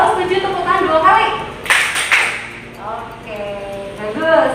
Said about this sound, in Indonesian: Kalau setuju tepuk tangan 2 kali.